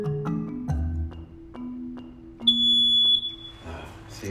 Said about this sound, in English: installed an interlinked fire alarm system